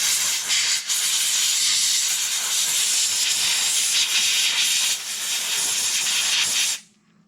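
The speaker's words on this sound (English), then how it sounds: "blow them off with a bit of compressed air" Loud, steady hiss of compressed air blowing clean the oil drain bolts on a Yamaha Super Ténéré motorcycle, a single sustained blast lasting several seconds with a brief dip before it cuts off abruptly.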